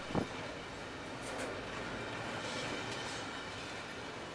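CSX freight train Q130, led by SD50-2 locomotives 998 and 8541 and hauling containers, rumbles past close by with steady wheel noise and faint rail squeals.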